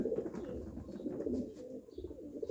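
Soft, low cooing from racing pigeons murmurs continuously, close by, with several overlapping coos and no talking.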